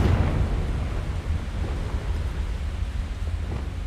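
A Confringo blasting spell goes off in Hogwarts Legacy, a loud rumbling, booming blast with a heavy low-end roar that stays dense and sustained, with no talk over it.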